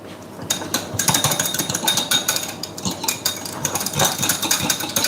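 A whisk beating a mixture in a bowl while making flatbread dough, rapid clattering metallic scraping that runs continuously and fairly loud, close up, with no talk over it.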